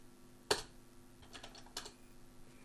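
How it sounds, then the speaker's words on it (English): A few sparse keystrokes on the keyboard of a homebrew Z80 computer as a mode command is typed into its operating system: isolated, fairly quiet clicks over a low background hum. "I can switch to this mode within the operating system by typing mode and then the mode number"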